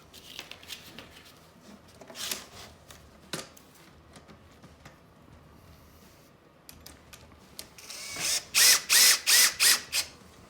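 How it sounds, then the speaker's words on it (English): Bolts being tightened on a HMWPE underbelly skid plate of a 2019 Can-Am Outlander Max XT ATV, with scattered handling clicks and then a burst of loud, rapid ratchet clicks near the end. "washer, thread lock, other bolt, and tighten everything down"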